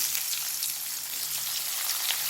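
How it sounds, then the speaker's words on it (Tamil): Onions sauté in oil in a kadai with a dense, steady hiss and crackle, close and continuous, with a faint low hum beneath. "வெங்காயம் வதங்கட்டும் வெங்காயம் வதங்கிறதுக்கு தேவையான உப்பு போட்டுடலாம்"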